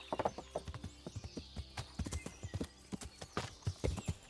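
Horse hooves clip-clop in a steady, uneven rhythm on a medieval road in the video game Kingdom Come: Deliverance, close and moderately loud, with no speech over them.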